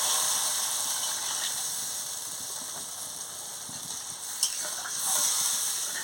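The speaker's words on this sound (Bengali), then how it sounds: "দেখুন এবারে কষানো হয়ে গেছে, এবার আমি জল দিয়ে দিচ্ছি" Steady hiss of rohu fish curry in a pan as water is added to the fried spices, with faint clinks and stirring throughout, continuous and close.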